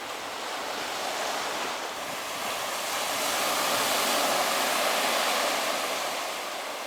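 Waves washing onto a sandy beach beside a campsite, a steady close surf rush that swells gently, with some wind noise and no talk.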